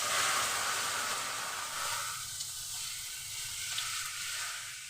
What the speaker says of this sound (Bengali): সম্পূর্ণ ডালটাকে ঢেলে দিলাম।